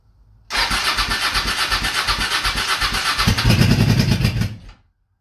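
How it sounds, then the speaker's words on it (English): A 1984 Honda Shadow 700 motorcycle engine cranks and catches on a cold start, revving loudly and unevenly for a few seconds before cutting off abruptly; no talking. "so we're gonna give it a cold start see how it sounds."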